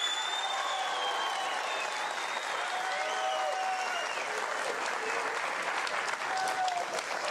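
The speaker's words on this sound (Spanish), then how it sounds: "ahí los dejo con Ron Jairo, un aplauso." A studio audience at a comedy show applauds for a comedian, sustained dense clapping with whoops and cheers mixed in, steady and full throughout.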